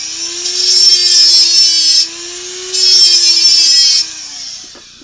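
A powered tool whirs loudly as a hole is deburred in a solder stencil printer part, in two bursts of high grinding buzz over a steady motor drone, which then winds down.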